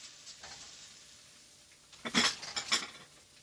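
Cabbage cooks down in a frying pan, a soft sizzle that turns into a short flurry of utensil scrapes and clinks against the pan near the end.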